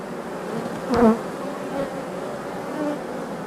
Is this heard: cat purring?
no